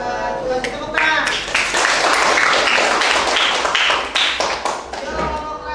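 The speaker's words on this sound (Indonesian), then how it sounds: "Kasih tepuk tangan." A classroom audience claps after a group presentation, a dense burst of applause with some sharp taps and thuds, voices talking over it.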